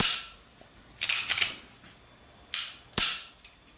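Several sharp, crisp metallic clicks of a pistol trigger resetting, spaced irregularly, close and clear against near silence.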